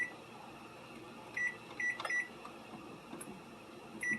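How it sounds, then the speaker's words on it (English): A kitchen timer or microwave beeps in a home kitchen while pasta noodles cook, giving short electronic tones, single and in a quick pair, over a low steady hum with faint clatter. "I always use my kitchen timer so I don't forget and burn things."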